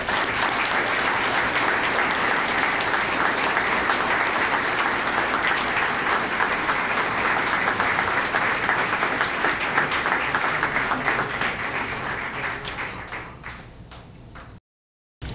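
A police chief's awards ceremony audience applauds a sergeant receiving the Chief's Award, sustained dense clapping from a large crowd, loud and even for about twelve seconds before thinning and fading out, with no talk over it.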